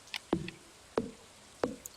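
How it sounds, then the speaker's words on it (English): Frogs croaking in Stardew Valley, three evenly spaced, fairly loud, short croaks with faint higher chirps between them over quiet ambience. "That sound was the sound of frogs."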